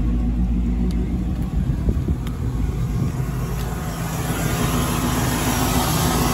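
A car engine with a chrome 220 amp GM alternator idles steadily, a loud continuous low rumble with a faint high whine and no pauses.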